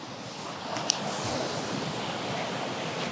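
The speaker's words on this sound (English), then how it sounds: "The waves are crashing onto the shore here." Ocean waves at the Nakatajima Dunes in Hamamatsu wash onto the shore in a steady, broad roar with wind buffeting the microphone and no speech.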